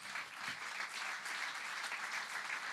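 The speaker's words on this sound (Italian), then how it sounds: "davvero fatevi un applauso." Audience applause at a live anniversary festival show in Cagliari, steady dense clapping from a large crowd filling the whole stretch without letup.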